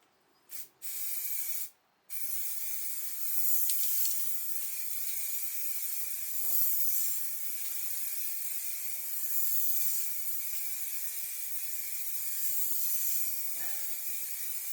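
A steady aerosol spray hisses almost continuously, broken by a few short bursts at the start, then holding a long, fairly loud sustained spray.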